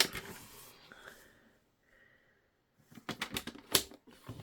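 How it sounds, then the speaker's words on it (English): A paper trimmer scoring card stock on all four sides at one inch, several short scraping strokes and clicks separated by a quiet pause, close and fairly faint. "I am going to bring in my trimmer and I'm going to score on all 4 sides at 1 inch"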